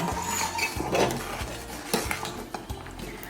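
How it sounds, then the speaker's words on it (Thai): Coconut milk curry stirred in a pot with a utensil, for a tuna-based Thai rice noodle curry; steady scraping and clinking of spoon against metal for about three seconds, close and continuous with a few sharper knocks near the end. "แล้วก็คนเขาด้วยนะ นิดนึง อย่าให้เขาติดก้นหม้อมากเกินไป"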